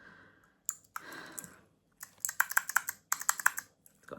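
A small clicky fidget keyring toy gives sharp close clicks, first a few isolated snaps, then a quick rapid series in bursts.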